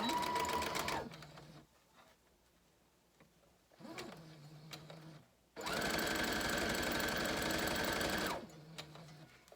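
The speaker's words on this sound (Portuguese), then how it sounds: "E vou costurar aqui e já mostro pra vocês" Sewing machine stitching fabric pieces for a seal toy in a circus-themed craft project, with two loud sustained bursts of motor whir separated by quieter pauses, close and alone.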